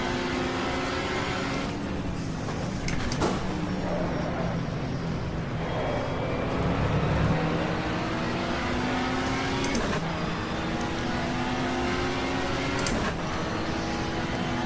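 Touring race cars, including a factory BMW and a BMW 635, roar past at Donington in the 1987 RAC 500, with continuous loud engine drone and rising gear-change whines as several cars pass close by in succession.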